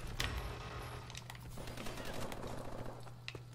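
Rapid-fire gun in a video game, quick faint repeating shots over a steady low hum, with a few sharper cracks standing out.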